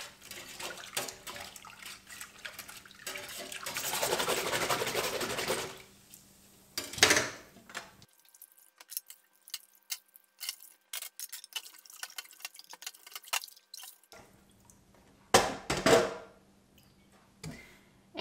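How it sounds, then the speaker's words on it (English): Dishes being washed by hand in water with homemade soap, with sloshing and splashing in bursts, a longer churning stretch early on, then intermittent clinks and drips, fairly close and moderately loud. "A bit more washing up."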